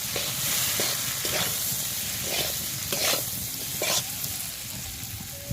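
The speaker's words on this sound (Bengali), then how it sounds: "নুন আর মশলাটা দিয়ে নাড়াচাড়া করে নিচ্ছি" Potatoes with salt and chow mein masala stir-fry in a pan, a continuous close sizzle broken by repeated scraping strokes of a spatula at a steady, unhurried pace.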